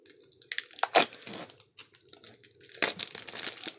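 Cardboard and plastic wrapping of a Pokemon mystery power box crinkle and tear as it is opened, with two loud bursts of crumpling separated by quieter rustling, close by and with no talking.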